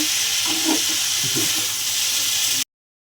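Water lily stems sizzle steadily in a hot pan, a dense continuous hiss with a few soft stirring scrapes, close and fairly loud, no voices, ending abruptly.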